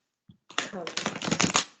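A really big deck of tarot cards is shuffled by hand: a brief tap, then a dense, rapid riffle of flicking cards, close and fairly loud, lasting over a second.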